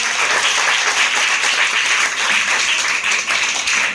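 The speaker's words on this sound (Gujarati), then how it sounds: "તો જોરદાર તાળી થઈ જાય એકવાર." An audience at a poetry recitation event in a school hall in Kurla, Mumbai, applauds loudly and continuously throughout, a dense wash of clapping from many hands.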